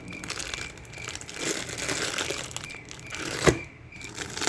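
A cake mix package crinkles and rustles up close as someone struggles to tear it open, soft continuous plastic crackling with one sharp snap partway through.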